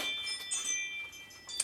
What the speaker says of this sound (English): It's my doorbell jangling.